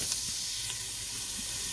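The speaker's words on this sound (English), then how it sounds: "I've got my mirepoix and my garlic into there. It's sizzling away." A steady, bright hiss of diced mirepoix vegetables and garlic sizzling in a hot pan continues without pause, with faint crackles and pops underneath.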